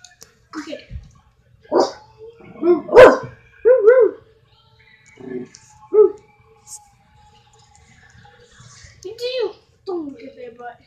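A dog barks in short, scattered bursts outdoors, sharp woofs spaced irregularly among a voice and other talking nearby.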